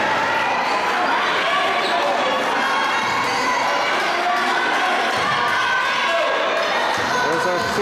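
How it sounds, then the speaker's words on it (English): Crowd at a youth basketball championship game cheering and shouting continuously, children's voices mixed with the thud of a bouncing ball, loud and dense throughout. "There's our cheering crew."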